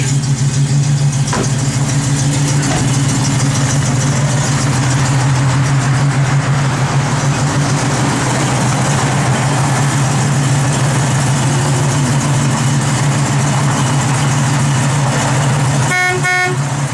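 A 1971 Chevrolet Nova big-block V8 idles on a cold, snowy day, a loud, steady low drone that holds evenly from start to finish with no voices.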